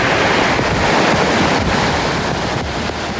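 Flash-flood water from a stream spills over its banks onto a road as a loud, continuous, broadband rush of churning water, heard close and alone without any voices.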